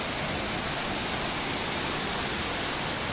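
Waterfalls flowing among hills near a bridge in Sakarya, a constant dense rush of falling water that fills the scene evenly without a break.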